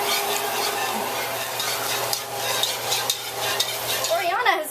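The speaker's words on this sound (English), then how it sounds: "then continue stirring until the residual heat gets us to that texture" Tapioca starch dough stirred steadily in a pot over a flame, a continuous close scraping and sizzling texture with a faint low hum underneath.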